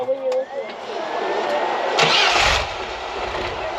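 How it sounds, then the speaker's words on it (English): A rock crawler's engine sputters unevenly and stalls on rocky off-road ground in Colorado, close and fairly loud, with a rough surge partway through and a voice talking over it. "All of a sudden, my engine starts sputtering and just ends up dying."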